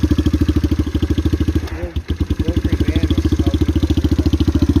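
Kawasaki KL250 motorcycle with an aftermarket exhaust idling, a rapid even low thumping pulse, loud and close, with a brief dip in the rhythm midway.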